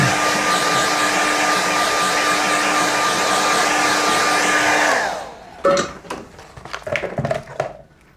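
A hair dryer blows loudly and steadily for about five seconds over a wet watercolour painting, then cuts off, followed by a few scattered knocks and clatters.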